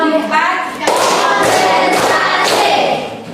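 Classroom group doing a 'tepuk semangat' rhythmic clap chant, the fourth pattern, with bursts of many hands clapping together in a patterned rhythm, loud and close, with voices chanting along.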